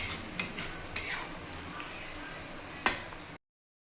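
A spoon mixes shapla shrimp in a pan, giving three sharp metallic clinks over a faint, low sizzle, with no talk before the sound cuts off abruptly.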